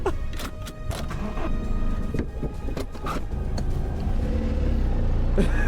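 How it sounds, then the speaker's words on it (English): A cheap four-cylinder car engine runs with a low, steady rumble, broken by scattered clicks and knocks from nearby handling of the car; no one speaks. "It sounds like a 4-cylinder."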